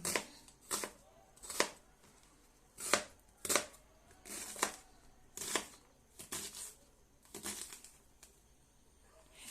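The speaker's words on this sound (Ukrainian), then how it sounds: "Цибулю ми зараз поріжемо на дрібні кубики." A knife chopping onion into small cubes on a cutting board, about a dozen crisp, sharp taps in an uneven rhythm, close and clear with quiet pauses between strokes.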